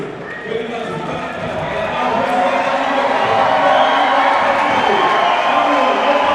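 A crowd in a sports arena cheers as a Georgian fighter comes on at a youth Olympic wrestling event, a broad, swelling roar that grows louder and holds steady.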